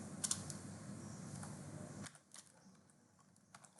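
Close, quiet typing on a computer keyboard: a dense run of key clicks, then a pause and a few scattered taps.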